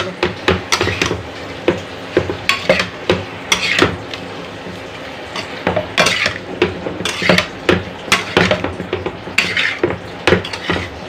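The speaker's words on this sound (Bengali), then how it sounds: "মশলাটা সুন্দর করে কষিয়ে নেবে" A spatula stirs spice masala and eggplant with a little water in a pan, scraping and clinking against the metal in a rhythmic series of loud, close strokes.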